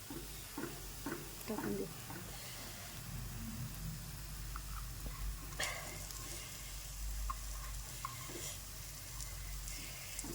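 Cashew, poppy seed and watermelon seed paste fries in oil with tomato for a dhaba-style paneer masala, a low steady sizzle broken by spoon scrapes and stirring clatters, with someone speaking over it.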